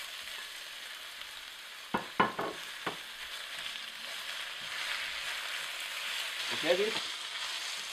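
Tofu frying in a pan with green onions and dark mushrooms, a steady close sizzle with a few clattering stirs and scrapes, and a brief spoken remark in the middle.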